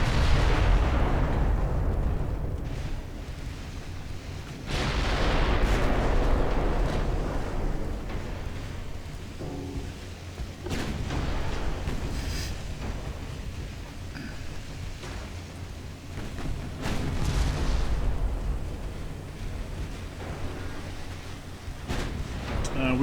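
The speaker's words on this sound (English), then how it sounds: "big 14-inch broadside" A 14-inch naval gun broadside from a Ultimate Admiral Dreadnoughts sea battle, with loud booming blasts that rise at several points and rumble on between them, under a constant low roar.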